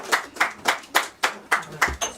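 A small audience at a Maronite church gathering claps in a brief run of about eight spaced claps, close and even in rhythm.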